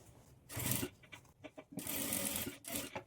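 A sewing machine stitches the edge of a princess-cut padded blouse, giving quiet, close bursts of rapid stitching separated by brief pauses.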